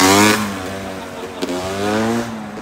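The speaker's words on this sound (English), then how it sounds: "we got a wheelie going by" A motorcycle pulling a wheelie passes by, its engine revving loud and rising then easing as it goes past, with no one talking over it.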